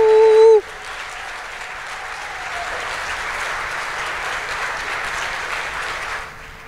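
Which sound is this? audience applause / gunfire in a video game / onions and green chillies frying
audience applause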